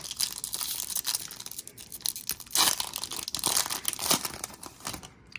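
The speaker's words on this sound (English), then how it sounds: "let's open the packs up here" Crinkly plastic wrappers of 2022-23 Bowman Chrome University Basketball trading card packs being torn open, with repeated sharp ripping and crumpling bursts close up, no talking.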